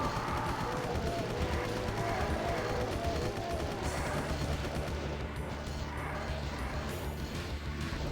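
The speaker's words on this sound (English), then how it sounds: "Forgot about the chain gunners." Chaingunners firing in a Doom-style game, a dense, continuous rattle of rapid gunfire mixed with heavy game noise and music, loud and sustained throughout.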